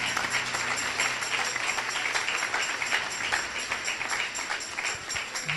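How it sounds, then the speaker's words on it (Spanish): A church congregation claps for the Lord in a steady, moderately loud wash of applause that continues evenly for several seconds, with faint sustained tones from music underneath. "Un aplauso fuerte al Señor."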